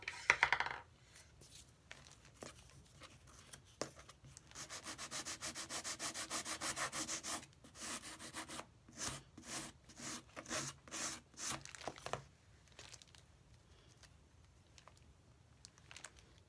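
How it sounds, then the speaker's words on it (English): Hand sanding along the sharp edge of an altered paper file folder, a close, steady scratchy rubbing that builds into a run of fast, rhythmic strokes and then tapers off, with no talk. "This has to be somehow smoothed off so we don't have that sharp edge."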